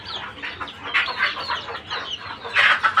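Laying hens cluck in a steady run of short, bright calls, several birds overlapping close by, growing louder toward the end with no talking.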